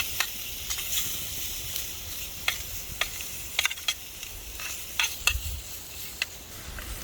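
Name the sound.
smoked sausage sizzling and being stirred in pot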